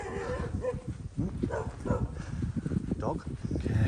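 A dog barks a few times at a distance, partly buried under gusty wind noise and people talking.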